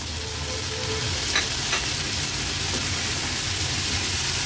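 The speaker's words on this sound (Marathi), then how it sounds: "मटर पण छान आपल्याला याच्यात परतून घ्यायचे" Green peas sautéing in a pan for a vegetarian thali produce a constant, fairly loud sizzle with a few faint scraping clicks of stirring mixed in.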